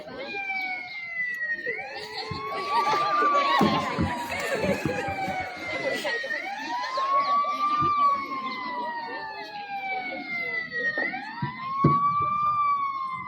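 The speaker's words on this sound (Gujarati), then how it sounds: "એમ્બ્યુલન્સનો અવાજ આવે છે પણ એમ્બ્યુલન્સ દેખાતી નથી." An ambulance siren wails during an Independence Day road-safety street play, its pitch sweeping up and down repeatedly, with overlapping siren tones and a background murmur; moderately loud and sustained.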